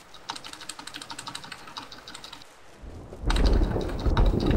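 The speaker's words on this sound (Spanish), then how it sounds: "¿Qué fue eso? Trueno." Thunder rumbles in the MTA DayZ video game: a low, heavy roll swells up in the final second or so, loud and close, following a stretch of fast, light keyboard typing.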